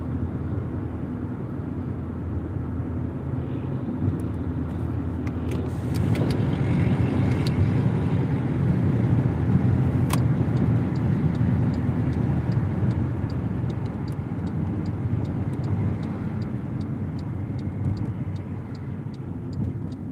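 A supercar passes outside a car at night, its engine swelling into a loud rumble that peaks mid-clip and fades slowly, over the steady hum of the car's own interior.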